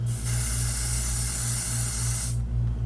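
A spray bottle releases a steady, continuous hiss of mist for about two seconds, close by, over a low electrical hum.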